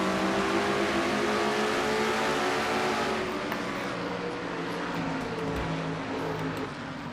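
Stock cars in a video game race roar in a dense pack, engines droning loud and continuous with overlapping revs as the field of cars runs together, no voices over the engine noise.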